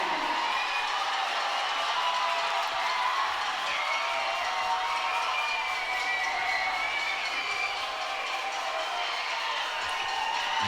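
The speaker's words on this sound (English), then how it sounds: "Union crowd getting loud here" A high school football crowd at a Union vs. Evergreen varsity game roars in a sustained, distant wash of cheering and shouting that stays loud and even throughout.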